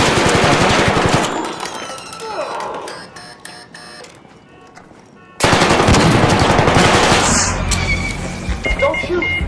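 Automatic gunfire in ARC Raiders rattles in dense bursts, fading into scattered distant shots before a second loud, close stretch of rapid fire, with a voice talking over the action.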